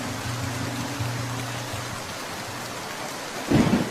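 Cartoon thunderstorm: steady rain pours on surfaces, a low rumble runs through, and a sharp thunder crack bursts near the end.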